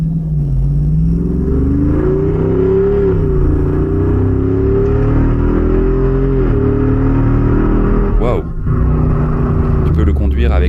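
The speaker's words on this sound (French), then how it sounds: "Je vais accélérer fort ici." A Jeep Wrangler Rubicon 392 Final Edition accelerates hard, its engine note climbing in a loud, steady rising drone with a brief gear-change dip near the end, heard from inside the cabin.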